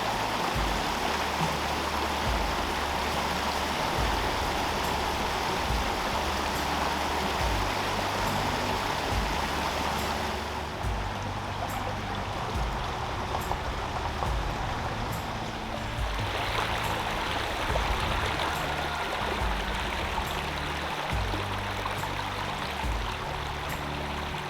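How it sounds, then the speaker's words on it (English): A creek running full after heavy rain tumbles over little waterfalls, a continuous rushing, splashing flow heard close and steady throughout. "I'm loving how full the creek is and the beautiful little waterfalls"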